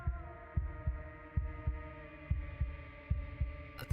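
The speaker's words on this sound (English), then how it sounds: "a wooden and fleshy heart beating with an unbroken rhythm" Steady, unbroken heartbeat from a wooden and fleshy heart in the video game Slay the Princess, with deep, even thumps in pairs repeating over a low sustained hum.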